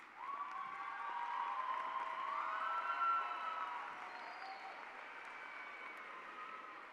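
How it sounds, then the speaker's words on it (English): An audience at a 2023 high school graduation ceremony applauds steadily for past alumni classes, a faint, distant, sustained wash of clapping that swells and then slowly tapers off, with cheering mixed in. "Please stand and give them a round of applause."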